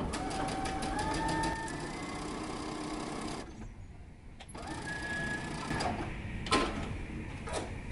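A sewing machine stitches a pocket down to the front of a pair of pants, running in long steady whirring bursts with a short pause midway and a few clicks near the end.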